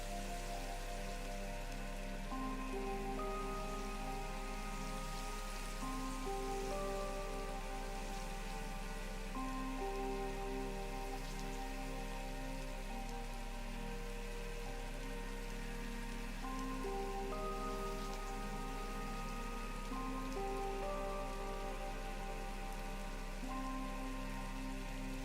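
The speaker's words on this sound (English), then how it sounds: "Wish the rain would stop." Rain patters steadily in the video game Satisfactory, a soft continuous hiss under a sustained music bed, with no talk.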